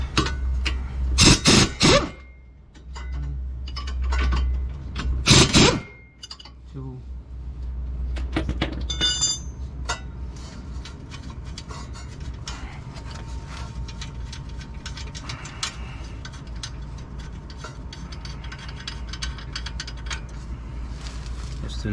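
Wrench work loosening nuts on a 2002 Honda Civic steering knuckle: a few loud clanks and ratcheting clicks early on, then quieter mechanical handling noises under a steady background hum.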